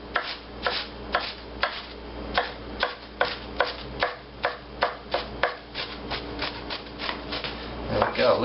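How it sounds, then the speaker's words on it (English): A kitchen knife chops food on a cutting board while a meatloaf mixture is prepared, with a steady run of crisp, close, evenly spaced strikes and no talking. "I'm just going to continue that cutting motion"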